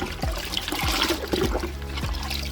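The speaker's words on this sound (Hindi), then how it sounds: "थोड़ी सी फंगीसाइड ली, पानी में घोली और इसमें डाल दी।" Fungicide solution mixed in water trickles and dribbles into the soil of an aloe vera pot, a close, steady pour with soft gurgling splashes.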